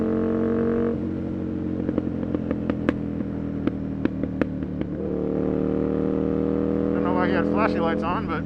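Aprilia RSV 1000 R Factory motorcycle being ridden on the road: a loud, steady engine drone with shifting pitch, scattered sharp clicks and knocks through the middle, and rising revs near the end.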